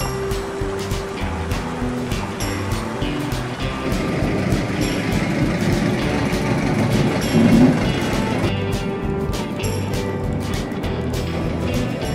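Britzer Parkbahn park railway train running in Berlin's Britzer Garten, a steady rumbling ride with rhythmic clatter of small carriages over track joints, loud and continuous throughout without talk.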